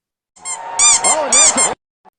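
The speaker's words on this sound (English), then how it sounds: "it's basically tygibbs weak punches to Sam Mayer with a squeaky noise" Squeaky toy-like sound effect dubbed over weak punches in a racing meme, a few rapid high-pitched squeaks in quick bursts, loud and close, with no talking.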